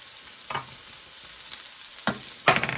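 French green beans fry and caramelize in oil, a steady moderate sizzle punctuated by several bursts of spattering and stirring clatter, the loudest near the end, with no one speaking.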